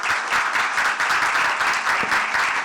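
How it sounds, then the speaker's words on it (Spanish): Steady applause fills a hall at a Dominican legal conference on a case-law yearbook, a dense, even wash of many hands clapping at once with no talk over it. "También un aplauso"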